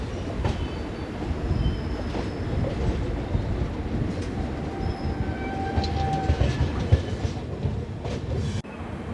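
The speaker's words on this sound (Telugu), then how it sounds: "ప్లాట్ఫామ్ నెంబర్ 4 మీదకి అయితే వెళ్తుంది మన ట్రైన్" The Kakinada Port–Bhavnagar superfast express, train 12755, rolls along the rails near Guntur Junction with a steady low rumble, faint clatter and occasional thin wheel squeals.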